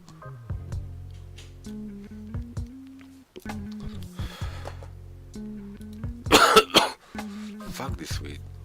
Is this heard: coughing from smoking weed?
yes